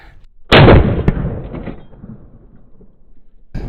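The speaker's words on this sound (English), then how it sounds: "we have just another very standard 1-ounce slug out of this 12-gauge Remington 870" A 12-gauge Remington 870 shotgun fires a standard 1-ounce slug at a steel plate: one loud, close blast with a sharp crack, a second impact snap, and a long decaying rumble. Another blast begins at the very end.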